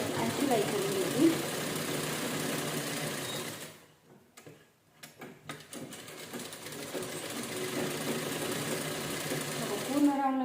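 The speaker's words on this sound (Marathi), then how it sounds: "पूर्ण राऊंडला व्यवस्थित शिलाई करून घ्यायची." Sewing machine stitching around an old towel with a steady fast whir, pausing briefly midway with a few clicks before resuming the continuous run, close and even, with someone talking over part of it.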